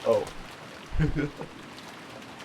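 Rain falls steadily as a soft, even hiss throughout a scene from the visual novel Umineko When They Cry, with a short voiced exclamation near the start and another brief voice around the middle.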